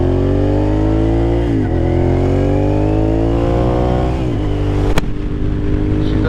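Suzuki SV650 motorcycle engine revving in neutral, a loud, close, steady idle with rising and falling revs, two throttle blips, and a sharp click near the end, with no talking.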